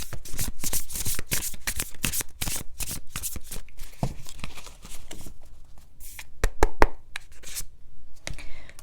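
Tarot cards are shuffled by hand in quick riffling bursts, crisp papery flutters and taps repeating close up, followed by a few softer shuffles and card knocks.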